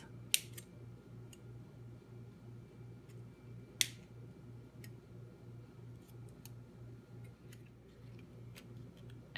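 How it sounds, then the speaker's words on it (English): Wire snips or old scissors cut apart wired paper-crafting dies, giving two or three crisp, isolated snips over a faint, steady background hum in a quiet room. "You can use a wire snip or an old scissors to snip them apart"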